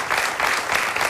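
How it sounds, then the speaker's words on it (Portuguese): An audience at a televised fado contest breaks into dense, continuous applause, like rushing noise that fills the moment. "Um grande aplauso para a Inês."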